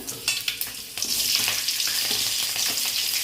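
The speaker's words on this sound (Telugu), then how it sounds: "ఇక్కడైతే ఆయిల్ అయితే కాయింది ఇంకా ఫస్ట్ పచ్చిమిరపకాయలు అయితే వేసుకుందాము" Green chillies hit hot oil in a pan for egg bhurji, a loud sizzle that jumps up after a few early clatters and then holds a steady frying hiss, with no talking.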